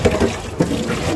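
Running tap water splashing as potatoes are washed in a home kitchen, a brief, close gush lasting about a second.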